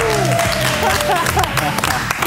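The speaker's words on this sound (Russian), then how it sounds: "вам аплодисменты" Audience applause at the close of a TV-versus-KVN game show round, steady broad clapping filling the whole moment with a host's voice and music-like tones running over it.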